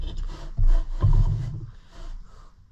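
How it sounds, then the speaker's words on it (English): A jigsaw cuts out a wooden cutting board in rough, buzzing bursts of sawing that rise and fall in loudness, close by. "Jigsaw that out now."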